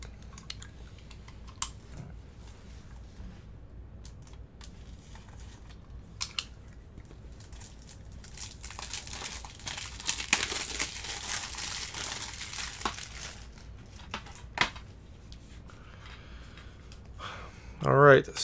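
Crinkling and crumpling of plastic wrap and a DVD case being handled and opened during an unboxing, with scattered sharp clicks and rustles growing busier midway, and a person speaking over it.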